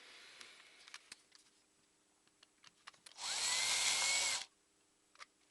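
A power drill bores out the loose rivets of a 6 amp miniature circuit breaker with a thermoplastic casing, one loud burst of about a second after scattered small clicks and taps in a quiet room.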